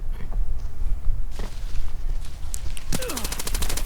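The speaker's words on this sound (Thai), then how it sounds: "แล้วก็ ไปยิงบอดครับ" Gunfire in the shooter game Arena Breakout as a player shoots at a bot: scattered steps and shuffling, then a loud, fast burst of automatic shots that closes the clip.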